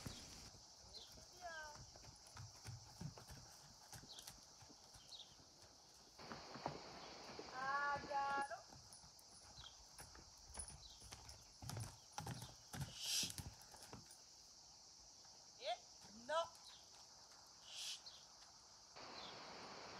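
Horse hooves clip-clop over the footing of an outdoor riding arena, steady walking beats at moderate distance, with a few bird calls and bits of speech now and then in the background.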